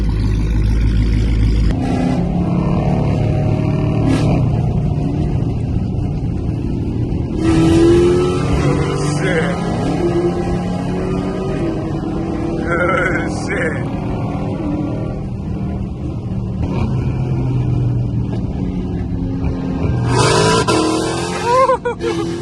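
A tuned catless Dodge Scat Pack rumbles loudly on leaving a cars and coffee meet, with a deep idle, repeated surging revs and shifting engine tones up close, and people talking over the exhaust.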